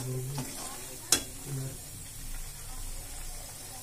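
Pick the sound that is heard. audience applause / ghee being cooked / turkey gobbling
ghee being cooked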